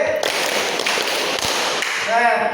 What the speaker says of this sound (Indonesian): Lagi terakhir, tepuk 5 1 kali